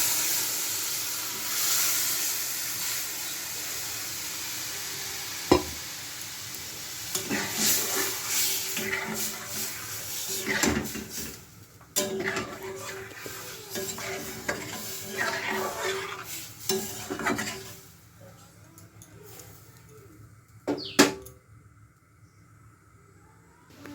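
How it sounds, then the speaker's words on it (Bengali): Boiled lentils bubble and simmer in a pan on the stove with a steady hiss and sizzle, broken by occasional clanks and scrapes of a spoon stirring. "আমার ডালটা ফুটছে।"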